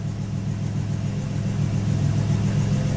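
A rebuilt engine in a 1986 Buick Grand National idles steadily right after its first startup, a close, continuous low rumble with a strong, even hum and no voices.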